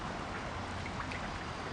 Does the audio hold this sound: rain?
yes